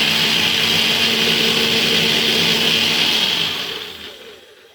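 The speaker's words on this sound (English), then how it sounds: "Or you can go for the blender. So I'm going to give this a whiz." A kitchen blender whizzes ingredients with a bright, continuous high whir that runs evenly for several seconds, then winds down and fades out as the motor stops.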